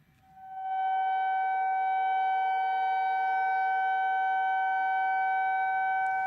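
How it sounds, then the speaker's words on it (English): A steady civil defense siren in Israel wails at full volume for Holocaust memorial day, a sustained tonal blare that swells up in the first second and then holds unbroken. "In Israel, a 2-minute siren sounded out this morning"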